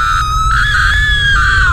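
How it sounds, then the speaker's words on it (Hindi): A cartoon character lets out a loud, sustained, high-pitched scream aboard a haunted plane, continuous for almost two seconds with no other voices. "तुम इतनी जोर से चीख क्यों रहे हो।"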